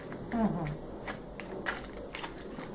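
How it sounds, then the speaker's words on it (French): A deck of playing cards is shuffled in a series of soft riffling bursts and quiet card rustles, close and fairly faint, during a magic performance, with a voice speaking briefly over it. "Et tu mélanges le jeu."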